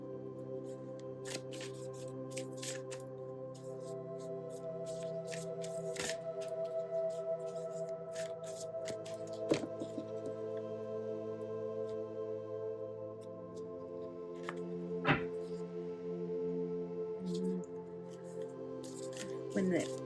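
Oracle cards are shuffled by hand in a quiet room, with soft riffling and sharp card snaps at intervals under a steady tonal hum of background music.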